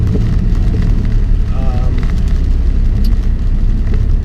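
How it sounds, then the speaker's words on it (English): 2016 Ford Focus SE driving on a wet road in rain, with a constant loud wash of tyre and road noise filling the cabin and a faint voice underneath. "Road noise in this car, only because it's raining, is why it sounds loud if you hear anything"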